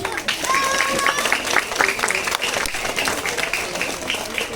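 An audience claps loudly and steadily for several seconds at a school anniversary celebration, a dense continuous patter filling the hall while a voice carries on over it.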